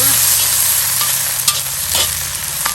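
Red peppers stir-fry in olive oil in a Lodge cast-iron wok over a Weber charcoal grill, a steady close sizzle with occasional scrapes and clinks of the spatula, no talking.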